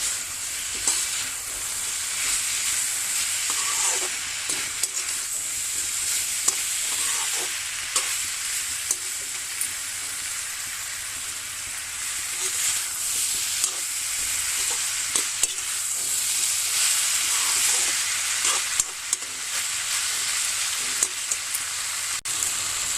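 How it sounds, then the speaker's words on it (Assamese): Ingredients stir-fried in a pan over raised flame for a banana-flower dish, a steady loud sizzle with scraping stir strokes running throughout, close and continuous with no talk. "ভাল কৰি এইটো মিক্স কৰিম।"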